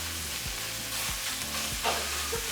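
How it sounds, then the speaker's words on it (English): Ground beef with taco seasoning sizzles in a pan while being stirred and broken up, giving a steady fry with a few soft scraping knocks at regular intervals. "now we're going to throw in our meat and half of our taco seasoning mix."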